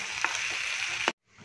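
Masala filling for a restaurant-style crispy dosa sizzling steadily in the pan as it is stirred, with a couple of soft scraping touches before the sound abruptly cuts out.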